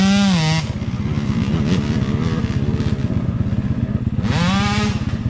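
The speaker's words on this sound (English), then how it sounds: "an easy demonstration for you to be able to audibly hear is this clip of a two-stroke" Two-stroke dirt bike engine revving: a rising rev to open, then a choppy, bogging drone below the power band, and a second climbing rev near the end, loud and close.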